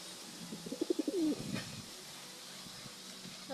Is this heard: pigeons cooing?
yes